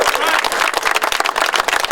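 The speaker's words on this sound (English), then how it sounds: "Please, let's give a round of applause." A crowd at an outdoor union rally for Amazon workers in San Francisco applauds the District Attorney, dense continuous clapping with voices mixed in, loud and close throughout.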